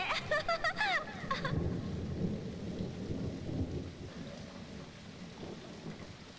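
Heavy rain pours steadily while a loud rumble of thunder rolls through, a sharp crackling burst at the start fading into a long, dense downpour.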